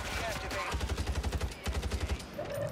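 Rapid bursts of automatic gunfire in a video game shooter, two quick volleys of sharp cracks close by, with faint talk in the background.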